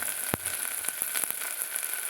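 Chopped tomatoes fry in a hot pan for biryani, giving a steady close sizzle with a dense hiss and scattered small pops and crackles, plus one sharper tick near the start.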